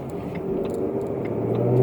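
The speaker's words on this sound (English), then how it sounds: "Loving the exhaust note" A Shelby GT350's exhaust drones with a deep, steady rumble heard from inside the car, swelling slightly louder toward the end.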